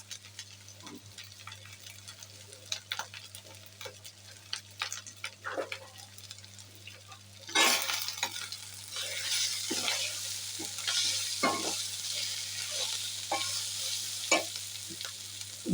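Spice masala with chili and turmeric powder frying for Bangladeshi hilsa bhuna, stirred repeatedly in a pan; scraping strokes over steady sizzling that grows louder and fuller halfway through as water is added.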